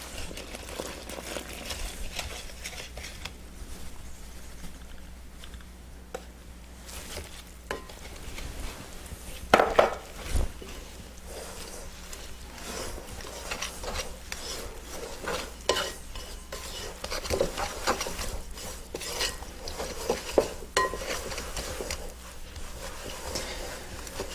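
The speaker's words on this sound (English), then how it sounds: "I'll just mix it into the dry ingredients" Sicilian no-knead bread dough being mixed into the dry ingredients, a long run of soft scraping and stirring strokes with a few louder knocks, fairly close and with no talking.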